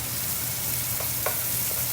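Shrimp and eggs fry in a pan for shrimp fried rice, giving a steady, close hiss of sizzling oil with a few faint scrapes as the food is moved around.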